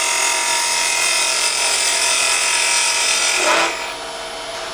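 A skew chisel cuts a wooden tool handle spinning on a lathe, giving a steady close hiss of shaving wood over the motor's hum, then easing off into a quieter tone near the end.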